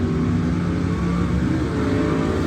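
A 1980 Pontiac Trans Am with a cowl hood and a rubber seal over the carburetor vents runs a drag-strip test pass, its engine roaring loud and steady throughout with a dense, continuous rumble and no voices.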